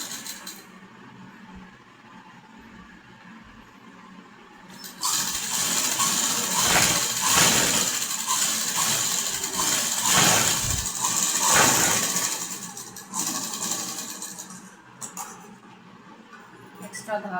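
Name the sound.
sewing machine stitching a half-inch seam for a concealed zip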